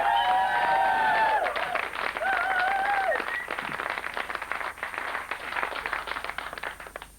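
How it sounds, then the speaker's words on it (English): A comedy club audience applauds a comedian, sustained clapping filling the room at moderate loudness while a tonal musical sting fades out early, the applause tapering toward the end. "Keep that applause going for the fabulous Mr. David Dinsdale."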